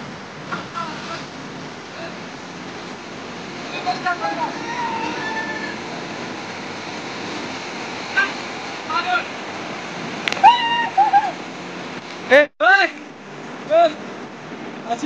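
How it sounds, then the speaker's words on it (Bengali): Big ocean waves break steadily on the beach at Bakkhali, a continuous broad wash of surf with a few brief voices and sharp sounds near the end. "ঢেউগুলো সুন্দর সুন্দর ঢেউ আসছে আজকে"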